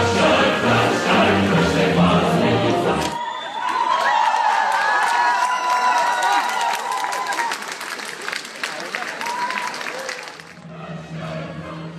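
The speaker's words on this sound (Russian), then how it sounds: "чем заслужили овации публики" A large crowd applauds and cheers loudly for several seconds after an excerpt from Rimsky-Korsakov's opera The Snow Maiden, with whoops rising above sustained clapping before it fades into quieter background noise.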